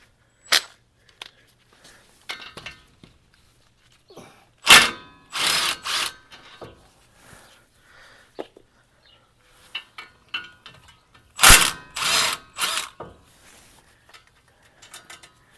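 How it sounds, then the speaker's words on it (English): Bolts being removed from the wheel hub of a 2006 Nissan Frontier during a hub and bearing replacement, with two loud bursts of a power tool several seconds apart, separated by scattered clicks and clanks of tools. "Okay, let's get the 4 bolts out."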